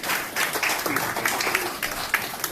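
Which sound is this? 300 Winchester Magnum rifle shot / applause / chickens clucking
applause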